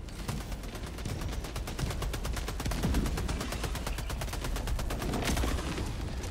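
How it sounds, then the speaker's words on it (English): Rapid, dense rattle of gunfire and blasts in the Helldivers 2 co-op shooter, a sustained barrage at steady loudness throughout, with no talking. "that was the worst orbital strike"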